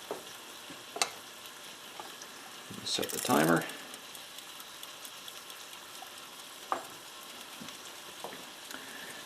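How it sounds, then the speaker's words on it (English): Waffle batter cooking in a vintage Wagner cast iron waffle iron gives a soft, steady sizzle, with a short burst of louder crackling partway through and a few light clicks. A person speaks briefly. "It's not sizzling like crazy, so that seems a little better."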